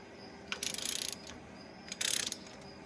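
A hand ratchet snugs down head bolts on an Allis-Chalmers 7060 tractor engine. Two separate bursts of quick clicking sound up close at low volume, with a quiet pause between them.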